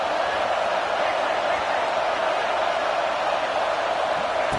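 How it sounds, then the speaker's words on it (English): A football stadium crowd roars in a dense, steady wash of cheering and noise that holds loud and unbroken for several seconds, with no clear speech. "This crowd ready to make its presence known."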